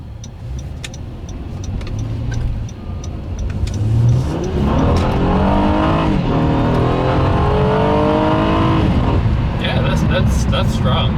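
A 2014 Honda Accord V6 pulls hard under full throttle, engine note climbing steadily through the revs with a shift partway, loud and close from inside the cabin, with someone talking over the roar.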